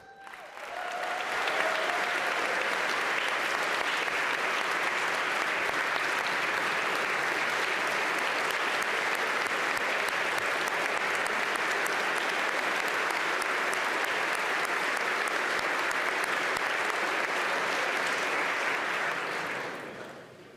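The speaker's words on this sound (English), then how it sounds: "y'all are real smart to clap for her." Sustained, loud applause from a legislative audience at a state budget address in the Pennsylvania General Assembly, a steady wash of clapping that holds for about twenty seconds before tapering off.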